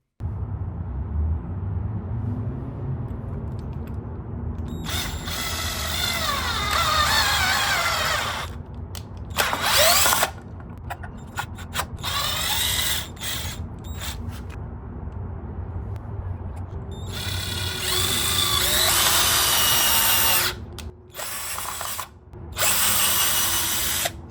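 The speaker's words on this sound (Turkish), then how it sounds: "Devam edersek yuvası olmayan bir ahşaba vida atmayı denedim." An SGS Plus 20V impact drill (SGS5245) drives screws into plain wood without pilot holes. Loud close whirring bursts start and stop repeatedly, with rapid ratcheting impacts during each run and short pauses between them.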